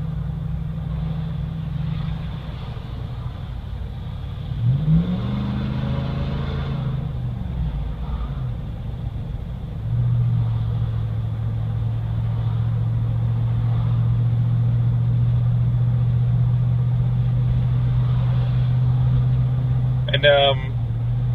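A 2014 Ram 2500 with the 6.4 Hemi idles with a deep, steady exhaust rumble, swelling in a couple of revs, under someone talking close by.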